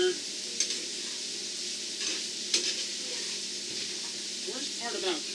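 Potatoes frying in oil, a soft continuous sizzle with occasional clinks and scrapes of stirring, fairly quiet, with a voice speaking briefly near the end.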